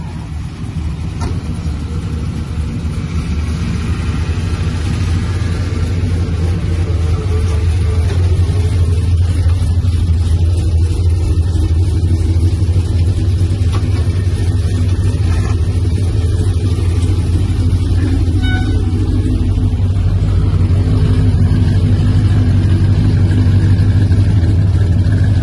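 Custom 1964 Chevrolet Chevelle Malibu engine rumbling loudly through its exhausts, a strong, steady low-pitched drone that builds slightly in intensity over about twenty-five seconds, heard close up and alone.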